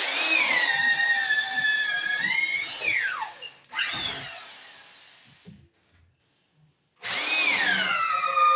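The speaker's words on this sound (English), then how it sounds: "we're going to finish drilling some more holes up here" A power drill whirs loudly in long bursts, its pitch sagging as the bit bites into wood framing in new construction, with a brief pause before it spins up again.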